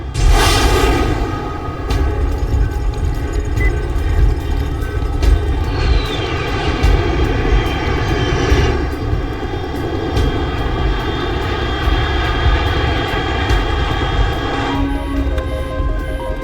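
A steady, loud aircraft engine drone passes overhead in the Metal Gear Solid 3: Snake Eater video game, a dense roar filling the whole stretch with a slight swell and fade near the end.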